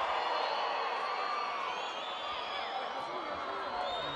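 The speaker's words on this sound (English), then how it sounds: "And the crowd don't like that one" A stadium crowd at a women's field hockey Champions Trophy 2014 semi-final between the Netherlands and Argentina lets out a sustained, dense roar of reaction that holds steady at moderate loudness throughout.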